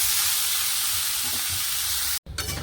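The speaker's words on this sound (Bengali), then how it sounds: "এবারে আমি সবজিগুলো ঢেলে দেবো।" Vegetables tipped into hot spice masala in a pan, frying with a steady loud sizzle and hiss that runs on continuously, broken by a brief gap near the end.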